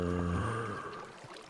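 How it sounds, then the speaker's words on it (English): A baby zombie in Minecraft 1.13 gives a short, tonal, groaning grunt near a zombie-grinding XP farm, loud at first and then trailing off into quieter low rumble. "Hear it? That's a baby zombie."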